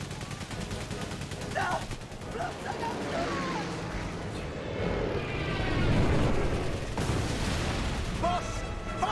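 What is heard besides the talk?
machine gun fire in the video game Memories Retold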